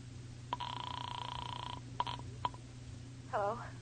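In a radio drama, a telephone sound effect rings in one long burst followed by two short chirps, fairly quiet, and then a voice briefly speaks.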